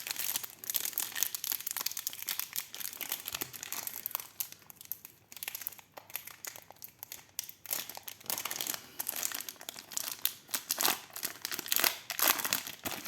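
Pokémon booster pack wrappers being torn open and handled, with dense, close, continuous crinkling and crackling of foil plastic in uneven bursts.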